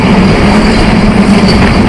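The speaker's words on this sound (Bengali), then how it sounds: "আমরা এখন আমাদের এই ট্রেনটি রয়েছে টাঙ্গাইলের কাছাকাছি" Banalata Express passenger train rolling through countryside near Tangail in Bangladesh, a steady close rumble with a low hum and faint wheel rattle, unbroken throughout and without any talk.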